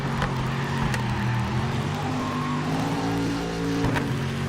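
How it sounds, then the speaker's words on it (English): Car tyres in a racing video game squealing as the car rides over a curb, a steady engine drone with sustained tonal tyre squeal and a few sharp bumps, near and continuous. "Listen to the tyres."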